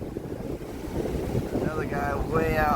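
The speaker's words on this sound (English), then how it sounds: "Sorry about the wind." Wind at a Florida beach ahead of a hurricane buffets the microphone in a steady, rough roar, with a voice speaking briefly under it toward the end.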